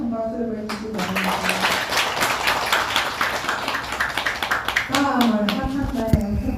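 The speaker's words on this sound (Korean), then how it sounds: "큰 박수를 보내주시기 바랍니다" Applause from the audience at a Buddhist dharma gathering, a steady broadband patter of clapping hands that swells and runs for several seconds, with a voice speaking over it at the start and again near the end.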